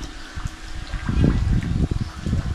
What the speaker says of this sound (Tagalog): Palitan lang natin ng tubig yung ating mga koi.